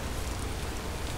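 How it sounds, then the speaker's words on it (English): Steady rain in Vintage Story, a faint, even hiss of falling drops with no pauses and nothing else standing out. "It is raining."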